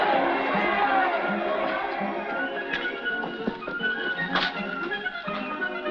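Bustling crowd filling a Spanish street, a dense continuous murmur of many voices with scattered taps and hoof clatter mixed in, steady and fairly loud throughout.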